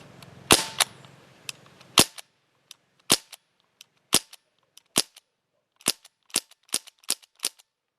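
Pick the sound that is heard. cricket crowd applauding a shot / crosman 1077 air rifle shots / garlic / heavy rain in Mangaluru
crosman 1077 air rifle shots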